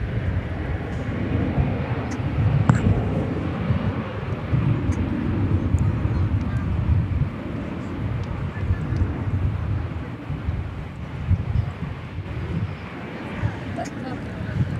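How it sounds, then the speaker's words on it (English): Jet airliners taking off from runway 18 left at DFW Airport, heard as a steady, distant low roar and rumble that fills the whole stretch with little change, while a voice talks over it. "Starting to get some action as far as takeoffs go over yonder."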